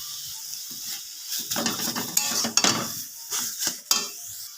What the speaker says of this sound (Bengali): কলার খোসাটাতে যে জলটা ছিল সেই জলটা খালি আমি এভাবে নেড়ে নেড়ে শুকিয়ে নেব।